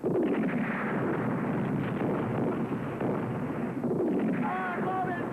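Artillery fire aimed at a tank in a 1987 El Alamein war film: continuous heavy rumbling gunfire and blasts fill the scene, with shouted voices mixed in.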